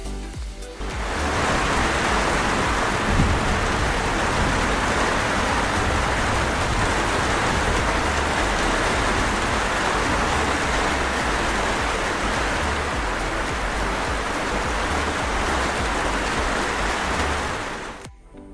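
Rain pours through an open jali roof section inside a house, a dense, even hiss of falling water that holds steady for about seventeen seconds, fading in and out at the edges, with no talk.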